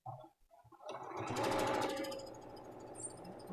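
A sewing machine stitches a quilt block in one short burst that starts after a few soft handling clicks and speeds up to a steady rapid whir.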